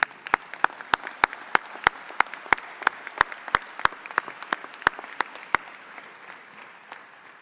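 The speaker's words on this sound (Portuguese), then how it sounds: "peço-vos uma forte salva de palmas e o nosso sincero agradecimento" Applause from a congress audience, a dense crowd clapping steadily with loud sharp claps on top, fading slightly toward the end, with no voices over it.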